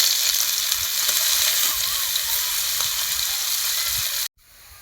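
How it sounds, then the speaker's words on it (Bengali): Chopped onion sizzling in hot oil in a pan with bay leaves, a loud continuous frying hiss with faint stirring scrapes that cuts off sharply near the end. "কুচিয়ে রাখা পেঁয়াজ দিয়ে দেবো।"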